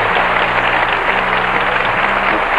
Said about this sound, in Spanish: A ti, un aplauso, Paco